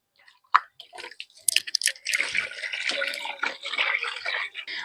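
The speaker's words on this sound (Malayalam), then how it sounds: "ഇനി ഇതിനെ നമുക്ക് നല്ലപോലെ വൃത്തിയിൽ കഴുകി റെഡിയാക്കി എടുക്കണേ അപ്പോൾ നമുക്ക് വെള്ളം ഒഴിച്ച് നന്നായിട്ട് കഴുകി എടുക്കാം" Water is poured over cut pieces of a large 5 kg kera fish head to wash them: a few early splashes and drips, then a steady, close run of splashing and trickling water with no talk.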